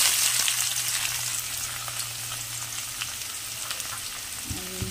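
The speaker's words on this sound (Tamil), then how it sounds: "நம்ம வந்து கொஞ்சம் எண்ணெய் காய வச்சு கடுகு, அதே மாதிரி கடலைப்பருப்பு எல்லாம் போட்டுக்கோம்" Mustard seeds and chana dal fry in hot oil with a steady, close crackling sizzle that holds throughout and has no voices over it.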